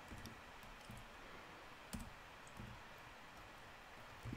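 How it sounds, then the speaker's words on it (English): A computer keyboard being typed on one-handed produces faint, sparse clicks and taps over a steady background hiss, with a few slightly louder key strikes spaced out. "Typing with single hand is harder than I thought."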